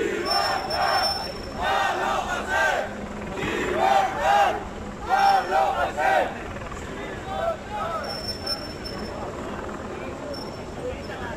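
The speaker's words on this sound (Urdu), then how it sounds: "ریلی میں لبرتاد پابلو ہیسل یعنی کہ پابلو ہیسل کو آزاد کرو کے نعرے لگائے گئے۔" Protest rally crowd chanting slogans in support of Pablo Hasél, calling for his release, with rhythmic bursts of massed voices and shouting that swell and fade over a steady outdoor roar.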